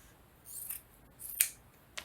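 Scissors snip through scrap fabric in three quiet, crisp cuts spaced about half a second apart, close by, against a near-silent room.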